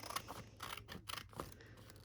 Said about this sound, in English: just cut that down the center